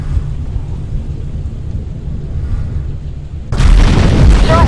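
Deep rumbling booms and blasts roll through a battle in the video game Ground Control 2 while units come under enemy fire. The low rumble is constant, then a louder, harsher burst of explosions hits near the end.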